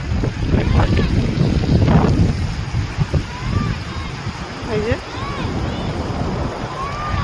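Arabian Sea waves roll and wash at Mumbai's Chowpatty beach, a broad steady surf under gusts of wind on the microphone, while someone talks over them and faint distant voices carry in the background.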